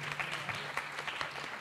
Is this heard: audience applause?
yes